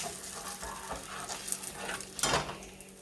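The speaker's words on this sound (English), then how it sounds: "that's come off of the pork chops. Want to stir that up really well." Pork chop drippings sizzle steadily in a frying pan as a utensil stirs them, with scraping bursts near the end; close and moderately loud, no talking.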